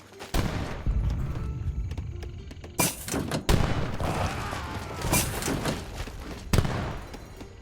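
Cannon fire booms in Weight of Honor, several loud, sharp blasts spaced a few seconds apart, each followed by rumbling debris and crackling in a noisy battle scene.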